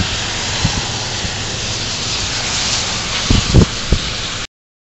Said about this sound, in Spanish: No hay lluvia, pero hay viento.